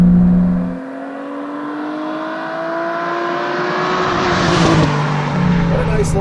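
A 1995 Mercedes C36 AMG engine pulls in third gear on an open road between roughly 3,000 and 5,000 rpm, a steady rising drone heard from inside the car.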